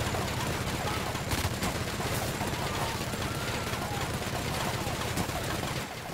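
Sustained automatic fire from an LMG machine gun in The Outer Worlds, a dense continuous stream of rapid shots at steady loudness for several seconds, with faint voice underneath.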